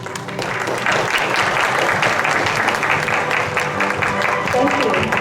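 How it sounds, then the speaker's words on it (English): A contest audience applauds the grand winner of an English presentation contest, a steady, moderately loud wash of clapping that carries throughout, with voices mixed in underneath. "A round of applause, everybody."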